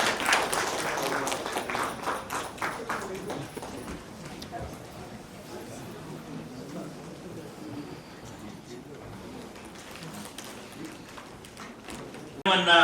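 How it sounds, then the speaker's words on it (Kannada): An audience at a community award ceremony in Bangalore claps as the chairperson, a noted lawyer, walks onto the stage. The applause is loud at first, then thins into scattered clapping under someone speaking over a microphone. "ಜೋರಾದ ಚಪ್ಪಾಳೆಯೊಂದಿಗೆ ಅವರನ್ನ ಬರಮಾಡಿಕೊಳ್ಳೋಣ"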